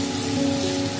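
Potato skins frying in hot oil in a pan, a steady dense crackling sizzle that holds evenly throughout the short moment with no voices.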